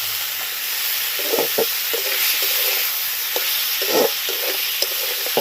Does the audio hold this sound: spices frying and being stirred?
yes